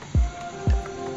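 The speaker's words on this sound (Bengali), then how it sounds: "মশলাগুলো দিয়ে ভালোভাবে নেড়ে চেড়ে নিব মাংসটা" Beef and spices are stirred in a cooking pot, giving three soft, wet squelching scrapes spaced about half a second apart over a faint background hum.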